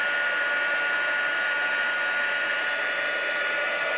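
A heat tool blows steadily and loudly throughout, melting heat-and-stick powder during paper crafting, a constant broadband airflow whoosh with no talk over it.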